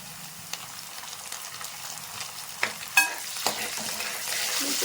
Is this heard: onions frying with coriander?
yes